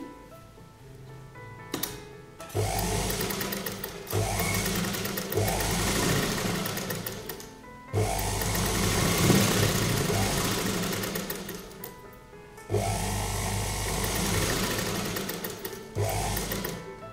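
A sewing machine runs close by, stitching the placket of an embroidered kurta in straight seams: a steady mechanical whirring hum in several long bursts, with brief stops and restarts between them and no speech.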